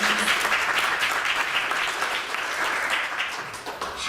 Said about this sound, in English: let's do another round of applause for the Chicago History Museum